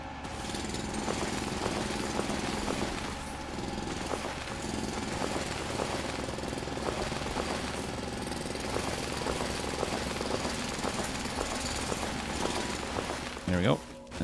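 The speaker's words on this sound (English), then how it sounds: "and then we'll drill this." A drill in the Foundry video game, a steady repetitive mechanical chatter with regular rhythmic pulses, droning on with a continuous hum, game sounds and a voice.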